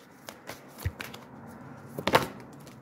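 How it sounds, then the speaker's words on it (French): Quiet papery rustles and soft card flicks come from a deck as a single card is drawn, a few small taps clustered near the end. "Je vais reprendre juste une seule carte."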